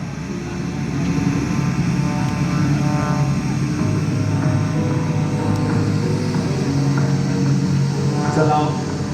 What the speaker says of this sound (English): Here comes Jet coming back